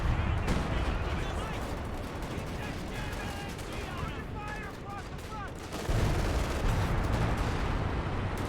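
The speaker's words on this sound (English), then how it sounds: "Got some artillery being rained on the sheer panzer quarters" Artillery and small-arms fire from a Company of Heroes 2 battle, with dense continuous rumbling blasts and crackling shots under a steady din. Some chirping game effects come through, and a louder barrage swells near the end.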